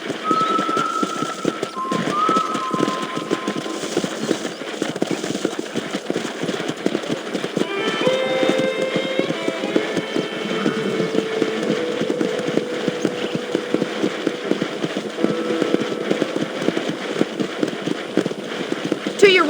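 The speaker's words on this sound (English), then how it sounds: "let's see if you can still ride a horse." Galloping horse hooves in the Red Dead Redemption video game, a steady clip-clop rhythm running under game music, with a brief whinny and a voice talking over it.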